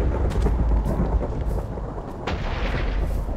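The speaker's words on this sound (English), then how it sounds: "Really don't like the thunder in this game." Thunder in the video game Minecraft during survival play on an island: a loud, deep rumbling roll with heavy low-end crackle that fills the whole moment and fades slightly toward the end, with no talking.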